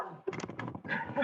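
A pet dog gives short whimpers and whines in a room, close and moderately loud, with a few brief yips over about a second.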